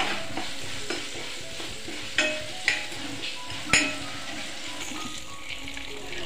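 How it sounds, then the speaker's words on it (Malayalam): Chopped coconut pieces sizzle steadily in a hot pan for a Kerala beans stir-fry, with a spoon scraping and a few sharp clinks against the pan, close and continuous. "ഇത് ചെറുതായി ഒന്ന് മൂപ്പിച്ചെടുക്കണം."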